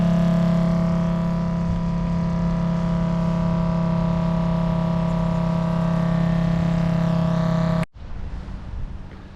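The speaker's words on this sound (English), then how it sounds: "12-volt pump." A 12-volt water pump for a solar rainwater drip irrigation system runs with a steady, even electric hum and whine, then cuts off abruptly near the end, leaving faint outdoor background.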